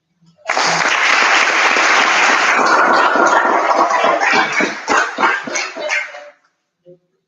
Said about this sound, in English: I think we should give a round of applause to the candidates who want to be.